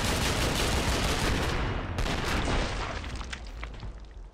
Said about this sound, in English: Oh, grenades!